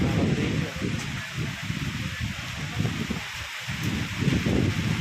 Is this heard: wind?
yes